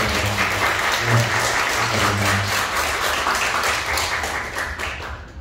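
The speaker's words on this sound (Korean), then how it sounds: "하나님께 영광의 박수를 하나님께 드립니다." A church congregation claps together in praise during Sunday worship, a dense, steady applause filling the sanctuary for several seconds before tapering off at the end, with a low sustained tone humming underneath.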